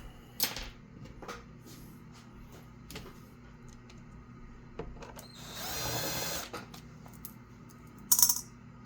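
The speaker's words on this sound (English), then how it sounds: "Put your 4 bolts in." Bolts are set into the housing of a KitchenAid stand mixer during reassembly: sparse metallic clicks and taps, a brief rattling scrape and a short jingle near the end, quiet and close with no talk.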